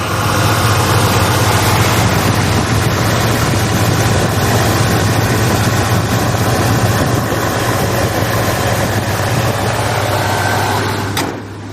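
A Ford truck's carbureted engine running loud and close, a steady heavy low rumble that holds for about eleven seconds before dropping off slightly at the end.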